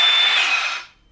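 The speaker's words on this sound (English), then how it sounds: "Let's listen to the sound of the motor." Cordless DEWALT Atomic 20V circular saw motor spinning freely with no cut, a steady high whine held alone for just under a second, then fading quickly as it winds down.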